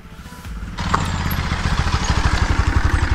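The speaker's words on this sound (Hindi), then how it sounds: "तो अभी बाइक से ही जाएंगे आज भी हम।" A motorcycle engine idles close by with a rapid, steady chugging beat that grows louder and firmer after it revs up briefly, on a road near a village.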